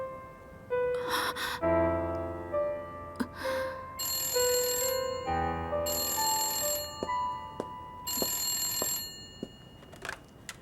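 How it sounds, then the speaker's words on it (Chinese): A telephone rings indoors in a drama scene with repeated electronic trilling bursts in a regular on-off pattern, fairly clear and near, with short breaths and gasps audible between rings but no spoken words. "周小姐，婉婉的电话。"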